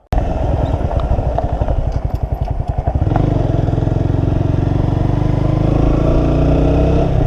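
A motorcycle still in its break-in period, ridden on a motovlog ride. The engine runs loud and close throughout with a steady throbbing drone, and its tone shifts briefly around the middle as it revs.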